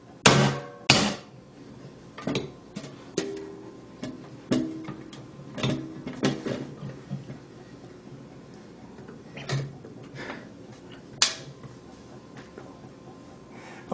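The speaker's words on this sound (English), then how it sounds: "we're going to actually make sure and secure this by doing this with a hammer" A hammer taps a metal paint can lid shut with a phone sealed inside, producing a dozen or so sharp, close metallic knocks at an irregular pace, some loud and some lighter, with quiet handling noise between.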